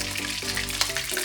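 Curry leaves and mustard seeds sizzle in hot oil in a pan for village-style poha, a brief, close, continuous crackle with small pops.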